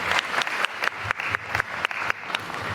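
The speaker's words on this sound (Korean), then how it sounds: "뜨거운 박수로 조용한 위원장님 가져주시죠." Short burst of audience applause welcoming a committee chairman to the front at an apartment reconstruction owners' briefing, with several distinct sharp claps over a steady clapping bed.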